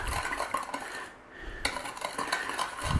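A spoon clinks and scrapes in a small dish while mixing sweet and sour sauce of vinegar and pineapple juice, quick close metallic taps with a brief pause in the middle.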